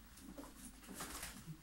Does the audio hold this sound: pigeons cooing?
yes